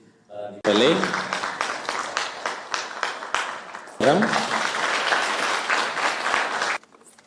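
Audience clapping at an event hosted by Rachel and Ruto for first spouses, starting abruptly, a brief pause, then a second burst of dense applause, with a voice heard over it.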